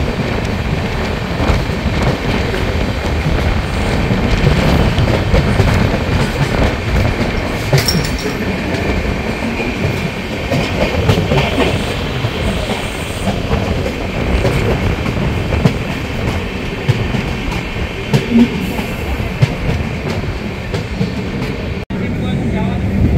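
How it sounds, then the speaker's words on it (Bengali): A passenger train runs on rails past Muragachha toward Berhampore Court halt, a loud, continuous rumble with faint rhythmic clatter and wind buffeting the microphone throughout. "ট্রেন এখন তার পরবর্তী হল্ট বহরমপুর কোর্টের দিকে যাচ্ছে"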